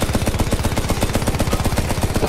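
Rapid automatic gunfire in the Doom SnapMap video game, a loud, continuous rattling burst of evenly spaced shots lasting a couple of seconds with no talk.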